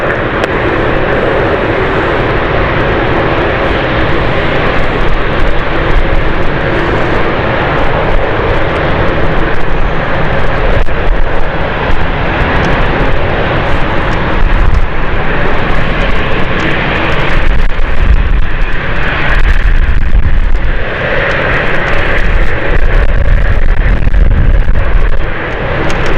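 A KLM airliner at London City airport roars loudly and continuously for the whole stretch, a broad rumbling engine noise on a stormy evening.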